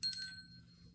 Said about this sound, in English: this little Santa bell